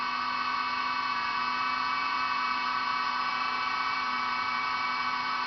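A car engine fitted with vibration-dampening engine mounts idles steadily, a constant smooth hum with a low tone and a whine above it, unchanging and close by.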